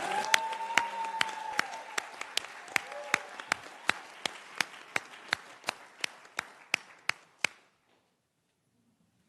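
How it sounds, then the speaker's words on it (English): Applause from a summit audience, starting dense over faint background voices and thinning into one or two steady clappers before stopping abruptly near the end. "Let us give another round of applause"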